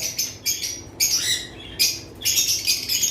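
Opaline lovebirds, including a ted-head pair, give sharp, high chirps and squawks in quick bursts, several calls close by against a quiet background.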